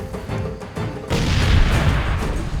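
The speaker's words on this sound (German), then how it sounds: "Ne, Granate gefällig." Grenade blast in Far Cry 2 erupts partway through as a loud, broad boom that rumbles on, following lighter impacts, with no voices.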